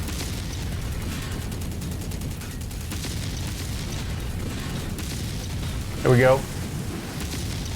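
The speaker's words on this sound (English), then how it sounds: "Weapon explosion, ammo explosion." A mech's weapon and ammunition explode in MechWarrior 5, a short loud burst near the end over constant rumbling battle noise, with someone talking through much of it.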